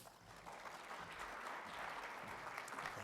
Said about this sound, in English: It always feels so goofy to have people clap for you